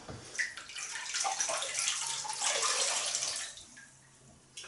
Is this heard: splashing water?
yes